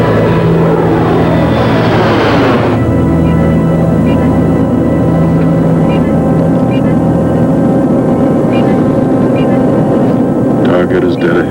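Loud, constant drone of an airplane's engines in flight, a dense steady hum with a shift in pitch early on and continuing unbroken throughout.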